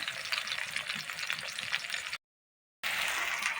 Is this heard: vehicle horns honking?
no